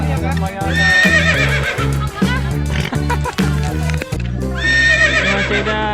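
A horse neighs loudly and its hooves clip-clop in a quick steady rhythm during a children's horseback ride, close and prominent, with voices mixed in.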